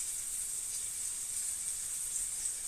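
Hake fish frying in a pan, a steady soft hiss of sizzling oil that stays even and continuous, close and fairly quiet, with no voices.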